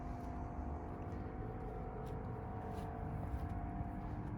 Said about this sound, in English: this is the compressor, what it sounds like on the outside